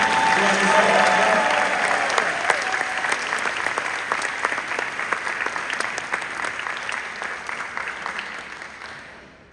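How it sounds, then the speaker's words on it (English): Sustained applause from an audience at a congressional district event honoring Senator Carlos Gamble-Smith, dense clapping that stays loud before gradually thinning and fading toward the end. "please give a round of applause to Senator Carlos Gamble-Smith"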